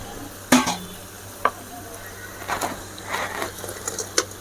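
Chicken and capsicum stirred in a hot pan for hotel-style chilli chicken, a few sharp spoon knocks and scrapes over a low steady sizzle, close and without talk.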